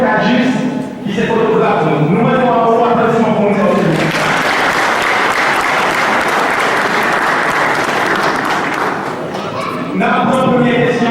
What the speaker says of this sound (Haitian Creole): Nous mettons un bon applaudissement pour nous.